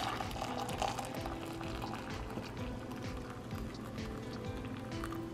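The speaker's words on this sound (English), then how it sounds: "I'm gonna put 2 cups of water in a measuring cup" Two cups of water poured into a measuring cup while making milk tea boba; a quiet, continuous liquid splash and trickle, close by, with faint background noise.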